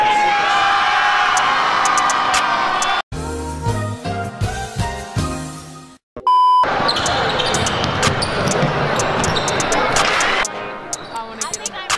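Loud crowd cheering and whooping fills a school gym at a homecoming basketball game, with ball bounces, babble and bursts of music or buzzer tones cutting in between.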